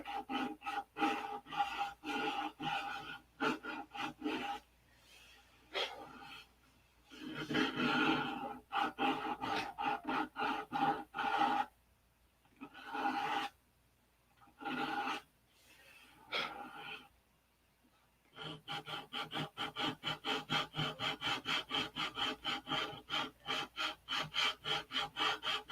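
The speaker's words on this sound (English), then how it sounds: "What are you doing? Sanding?" Sandpaper rubs back and forth on a P-47 control-line model airplane, rhythmic rasping strokes in bursts with pauses, ending in a fast steady run of short strokes up close.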